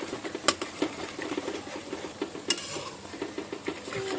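Cracked eggs stirred into vegetables frying in a pan for chow mein, a soft continuous sizzle with repeated scraping strokes and sharp clinks of a utensil against the pan.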